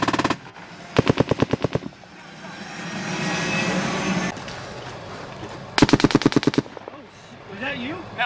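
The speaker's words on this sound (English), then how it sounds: "Somebody's shooting that way." Bursts of machine gun fire during a U.S. Marine combat operation against an insurgent stronghold, two loud rapid strings of shots separated by rumbling engine or aircraft noise, with brief voices talking at the end.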